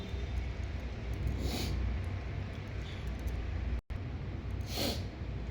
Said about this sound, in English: I really am sneezing so dangerously